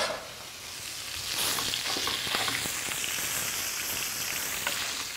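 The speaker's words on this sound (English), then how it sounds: "Now the key to saute, and that's this cooking method, we're sauteing here, is high heat with not too much fat." Lean ground lamb and bison sautéing over high heat with little fat in a hot pan, a soft steady sizzle with scattered crackles and spatula scrapes, close and fairly quiet, with no one speaking.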